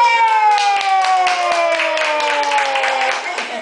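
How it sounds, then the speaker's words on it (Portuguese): A small child claps hands in a quick run of soft claps beneath a sustained, gliding tonal sound that dominates the mix. "Palmas!"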